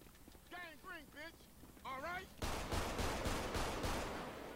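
Burst of rapid gunfire in Grand Theft Auto V with the LSPDFR police mod on a San Andreas highway, a dense crackling volley following chirpy speech-like sounds, loud and close.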